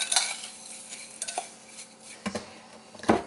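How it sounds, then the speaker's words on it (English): Panko breadcrumbs being stirred into a zucchini boat filling in a bowl, with a few clinks and scrapes of a utensil against the dish spread unevenly across a short, close stretch. "Just mix this up."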